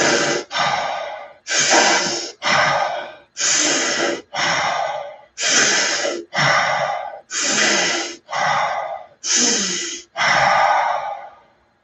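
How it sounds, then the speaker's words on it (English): Rhythmic breathing exercise: about a dozen loud, forceful breaths taken in alternating quick pairs, each a sharp rushing inhale or exhale close to the mic, evenly spaced with brief pauses and no talking. "I'm just gonna do a little breath thing."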